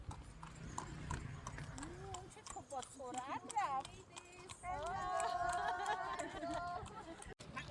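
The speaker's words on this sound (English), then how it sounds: "we decided to pay for some carriage horse rides at nighttime that will take us through the bazaar in Luxor" Hooves of a carriage horse clip-clop at night through the bazaar in Luxor, Egypt, a steady trotting rhythm under lively voices and chatter, with street sounds and a faint melodic call drifting in the background.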